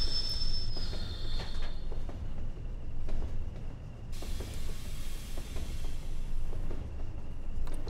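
British Rail Class 20 diesel locomotive hauling freight in Train Sim World, a low rumbling engine with squeals, clanks and rail clicks, steady and close throughout.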